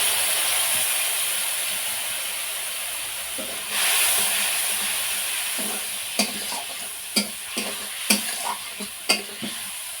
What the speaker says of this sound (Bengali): কয়েক সেকেন্ড ভেজে নেওয়ার পরে এর মধ্যে দিয়ে দিচ্ছি যে মশলাটা জল দিয়ে রেখেছিলাম সেই মশলাটা।